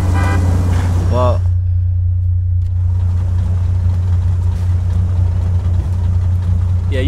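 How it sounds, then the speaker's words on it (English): A Dodge Challenger engine in GTA 4 rumbles loudly and steadily at idle throughout, with a brief voice-like tone near the start. "Yeah, you hear that engine, yeah, I just paid top dollar for this."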